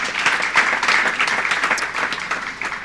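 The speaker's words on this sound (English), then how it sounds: "A hand of applause for engineer Anna." Sustained applause from an audience at a panel event on innovation and technology for gender equity, dense steady clapping that holds loud throughout and eases slightly toward the end, with no speech.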